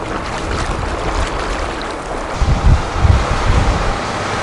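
Small dinghy moving across water off Mallorca with steady wind buffeting and wave splashing, a continuous rushing roar with low thumps near the end.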